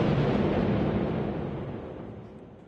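Rumbling aftermath of a controlled detonation of an unexploded wartime bomb in Singapore: a loud, broad roar that steadily fades over a few seconds, with no voices.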